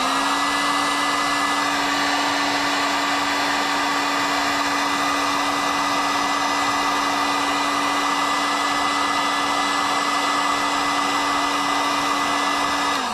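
A heat gun blows steadily to melt the coating on a cement fishing jig mold, a loud, constant close-up whirring drone with a fixed hum that cuts off at the very end.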